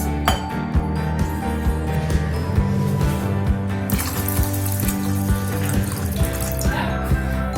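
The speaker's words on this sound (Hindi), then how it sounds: "अब मैं उड़द दाल में भी इतना ही पानी ऐड करूंगी" Water poured from a glass into soaked urad dal for idli batter, a splashing, trickling pour with glassy clinks over a steady background, near and fairly quiet.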